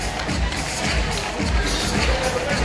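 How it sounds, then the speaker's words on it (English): Audience at a school arts festival applauds string-music prize winners, a steady broadband wash of clapping and crowd noise filling the space without pause. "Big round of applause to them"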